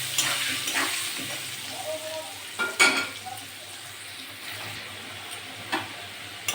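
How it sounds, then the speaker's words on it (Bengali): Potatoes seasoned with turmeric and salt fry in hot oil, giving a soft steady sizzle with occasional scraping stirs and clinks; moderately quiet and close, with no voices. "ভালো করে ভেজে নেব।"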